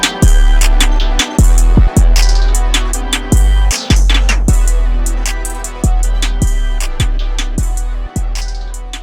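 A looping electronic music hook with a punchy, repeating kick-driven beat and layered synth tones plays loudly. It has a straight fade-out applied, and no voices are heard.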